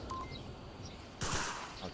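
Gunfire in the VR shooter Onward during a competitive match, a short burst of sharp shots cracking out over a steady background wash, moderately distant.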